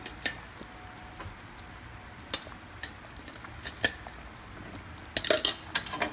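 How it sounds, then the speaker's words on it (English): A spoon scrapes and knocks against a pot of Trinidad and Tobago corn soup as it is stirred, giving sparse, irregular clinks and taps over a soft background hiss with no talking. "Give it a stir."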